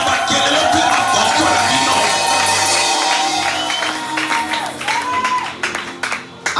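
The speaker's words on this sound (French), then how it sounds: "J'aimerais écouter vos cris, vos applaudissements pour la gloire de Dieu." A church congregation at a Sunday worship service applauds and shouts loudly and continuously, with singing or music blended into the dense crowd noise before it thins out toward the end.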